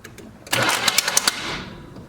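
A 1976 GMC Sprint engine with low compression being cranked over, a brief rough burst of cranking with a handful of sharp rhythmic knocks, close and fading out after about a second.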